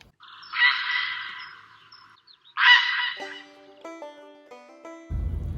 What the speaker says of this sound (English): you can see herons all year round as well, and this is what they sound like.